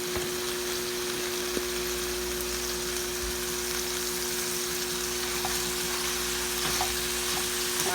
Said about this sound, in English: As you can tell, my hamburger's cooking along pretty good.